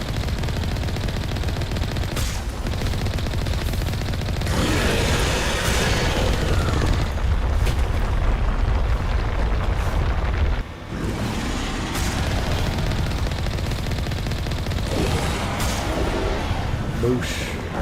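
Weapon fire and explosions in the Mass Effect video game, continuous rapid gunfire and booming blasts layered in a dense, loud combat din, with someone talking over it.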